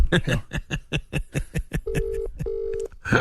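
Telephone dialing tones followed by two long ringback tones, heard close with a chuckle.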